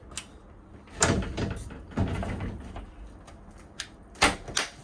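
Sliding glass closet door with a travel lock in a 2025 Forest River Salem Hemisphere 308RL travel trailer, giving several rattling slides and sharp clacks as it is pushed in and latched, close by and with no talking.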